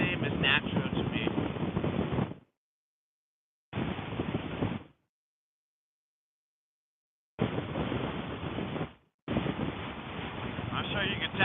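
Wind gusting against a microphone outdoors on a cold, windy day, loud rumbling buffets in several bursts separated by dead silent gaps.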